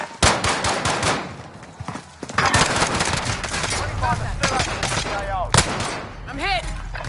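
Video game gunfire rattles in loud rapid bursts of automatic fire mixed with heavier blasts and battle noise, with voices shouting over the chaos throughout.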